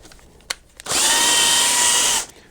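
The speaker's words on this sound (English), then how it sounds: "After you put water in, you want your drill in forward" A power drill with a paddle runs continuously at close range for over a second, mixing sugar cake paste for bees. A few light clicks come before it, and the drill sound is loud and steady until it spins down.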